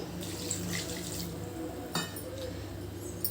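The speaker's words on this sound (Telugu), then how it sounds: "దీంట్లో 1 కప్పు వాటర్ పోస్తున్నాను" A cup of water is poured onto jaggery to start a syrup for boondi laddus, giving a steady close splashing and trickling over a few seconds with a soft clink near the end.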